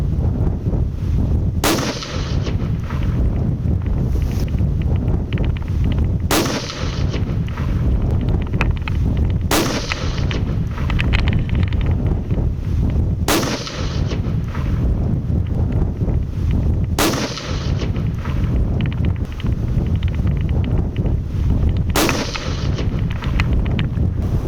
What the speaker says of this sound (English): We're going to go ahead and run about 10 rounds and see how it comes out.